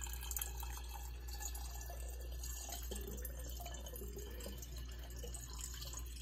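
Hummingbird sugar water is poured into a glass feeder, making a steady, quiet trickle and a faint drip over a low constant hum, with no voices.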